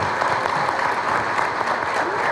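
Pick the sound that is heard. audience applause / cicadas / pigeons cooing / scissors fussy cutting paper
audience applause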